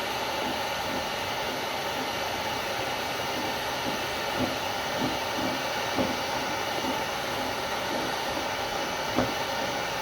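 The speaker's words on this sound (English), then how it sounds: "I got the heat gun on high." Heat gun running on high while warming PVC gives a steady, loud, airy roaring hiss that holds constant throughout, with faint handling clicks underneath.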